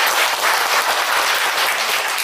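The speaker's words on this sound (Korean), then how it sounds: "여러분 큰 박수로 맞이해 주시길 바랍니다" Audience at a business agreement signing ceremony applauding as a lawyer stands to be introduced, a dense, even burst of many hands clapping, loud and close, with no talk.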